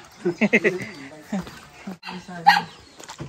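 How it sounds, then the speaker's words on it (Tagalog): A dog barks several times in quick, sharp bursts nearby, with a yelp following a moment later, while people talk over and between the barks. "May aso po, baka kami kagatin."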